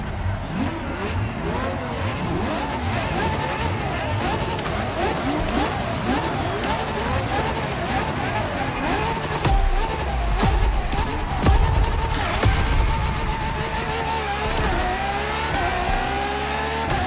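Ferrari LaFerrari hybrid supercar engine revving hard, with rising and falling pitch sweeps across repeated accelerations, loud and close throughout, with a person speaking over it.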